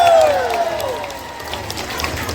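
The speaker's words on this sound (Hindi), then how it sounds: "इसलिए अरुणाचल के लिए जोर से ताली बजाइए।" An outdoor festival audience at the Nocte Chalo Loku celebration in Khonsa, Arunachal Pradesh claps and cheers loudly. The broad wash of applause is strongest at first and then eases to a steady, distant roar.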